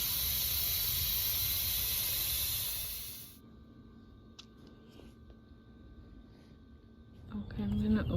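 An Instant Pot releasing pressure through its valve while pork and beans cook, a loud steady hiss for about three seconds that then cuts off, leaving a quiet room with faint handling noises and a bump at the end.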